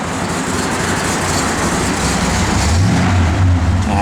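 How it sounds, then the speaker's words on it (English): A 1969 Chevrolet Chevelle V8 idles with a slight cam lope, a steady low rumble that runs loud and close from start to finish. "Again, just a little cam to it, nothing crazy."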